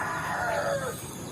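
A free-range village rooster crows once, close and loud, its call sliding downward over about a second amid a soft outdoor background.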